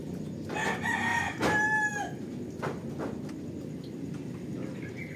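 A gamefowl rooster gives a loud, near crow with a drawn-out rising and falling call, followed by a few softer clucks and rustles against a steady outdoor background.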